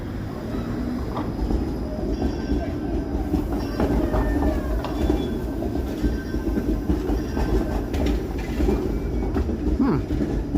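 A Toronto streetcar rounds a turn downtown on a cold evening, giving a steady close rumble of wheels on rail with thin squealing tones drifting over it throughout.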